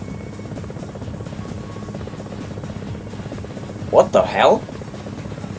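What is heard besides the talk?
enemy helicopter in a video game demo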